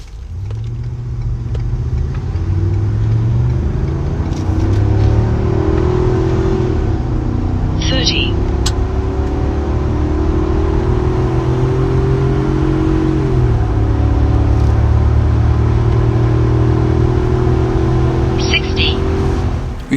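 A Ford F350 7.3L gas V8 pickup towing a 28-foot trailer roars steadily, climbing in pitch through several gear shifts over about twenty seconds, with a heavy, strained low rumble throughout.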